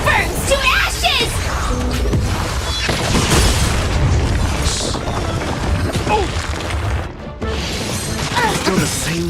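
Detonation attack in Honkai Star Rail, a burst of booming blasts and crashing impacts layered with game music and character voices, loud and dense throughout with a brief dip near the end.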